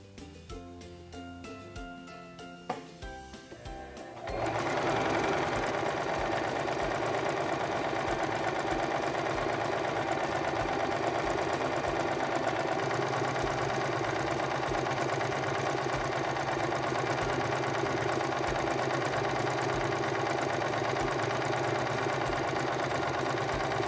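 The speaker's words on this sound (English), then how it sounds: "Now let's stitch out our decorative scallop." A SINGER Promise II 1512 sewing machine stitches a decorative scallop on fabric, starting after a few soft clicks and settling into a steady, even motor whir with rapid needle chatter that runs without a break, close and alone.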